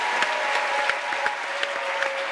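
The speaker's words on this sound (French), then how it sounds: "On l'applaudit de Zota." Audience clapping at a comedy stage show as a dance coach is welcomed, brisk close applause with a dense wash of hand claps and a few sharper individual claps standing out, no voices over it.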